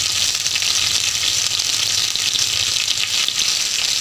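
Vegetables sizzle in a hot pan with a steady, loud, dense hiss that runs without a break, and no voices are heard over it.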